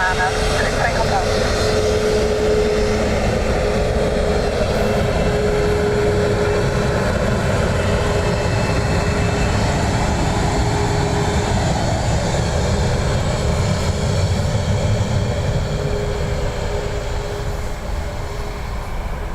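An aircraft taxis at Dublin Airport with a steady, loud engine drone and a faint whine that holds for the whole stretch, while people talk over it.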